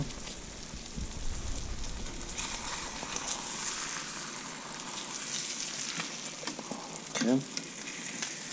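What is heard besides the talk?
fish frying in butter in a pan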